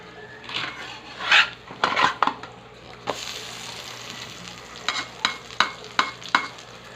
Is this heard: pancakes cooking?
yes